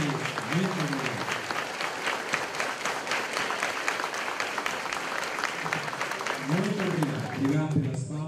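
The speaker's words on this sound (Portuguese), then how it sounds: "Obrigado pelas palmas, podem sentar." Audience applauding throughout at a church inauguration of a Lutheran temple in Santa Teresa, a steady crowd clapping with a voice speaking over it near the start and again near the end.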